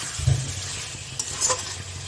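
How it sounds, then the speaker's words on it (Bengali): Potatoes and chicken being sautéed together in a pan, a short burst of sizzling with a couple of spatula scrapes and light clinks. "মাংসটা কষা হয়ে গেছে, এবার আলুগুলো দিয়ে কষে নেব"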